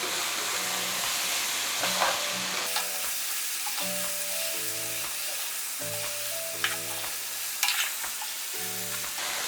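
Chicken frying in a pan with chillies and ground garam masala, stirred with repeated scraping strokes over a steady close sizzle, with no voices.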